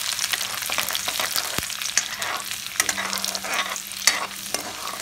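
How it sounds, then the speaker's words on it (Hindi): Garlic fries in hot oil with cumin seeds in a pan, making a continuous close crackling sizzle punctuated by sharp spoon clinks and stirring scrapes, with no speech. "उसके बाद हम लहसुन डाल देंगे, इसको अच्छे से भून लेंगे।"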